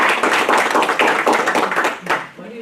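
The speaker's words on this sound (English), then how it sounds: "That deserves an applause." Board of education meeting attendees clap in a brief, fairly close burst of applause, with a few voices mixed in as it fades.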